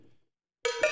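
After a brief fading tail and a short silence, a sampled cowbell from a cinematic percussion library sounds two close, bright metallic strikes in quick succession.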